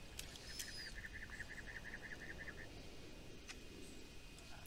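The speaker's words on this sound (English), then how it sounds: "And there's our birdie birds." Birds in the video game Conan Exiles give a quick run of about a dozen evenly spaced high chirps, followed by a few scattered tweets over a low outdoor ambient hiss.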